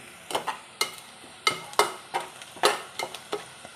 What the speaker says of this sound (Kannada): ಸ್ವಲ್ಪ ಹೀಗೆ ಎಣ್ಣೆಯನ್ನು ಫ್ರೈ ಮಾಡಿ